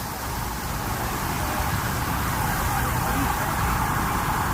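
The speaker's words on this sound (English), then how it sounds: "There's some sirens heading across the way here." Police sirens on Michigan Avenue in Chicago, wailing over a thick roar of street traffic, heard outdoors at a moderate distance and steady throughout.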